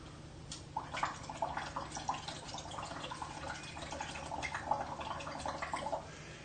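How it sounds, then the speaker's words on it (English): Someone blows through a straw or tube into a glass of water, making a continuous close bubbling gurgle with rapid irregular pops that lasts about six seconds. "I'm going to blow in this and see what happens to this water"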